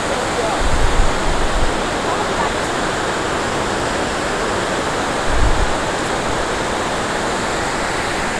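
A waterfall roars as a broad, steady wash of rushing water heard up close and loud, with a couple of low gusty thumps.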